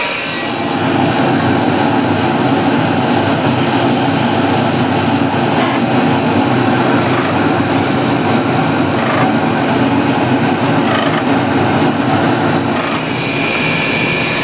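A turned wooden piece being quickly sanded on a spinning woodturning lathe gives a loud, steady broadband whir and rush that holds unbroken throughout, with no voices.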